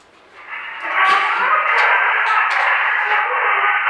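A scratchy, thin-sounding 1915 recording of an Arabic folk song, with muffled hissy tone throughout.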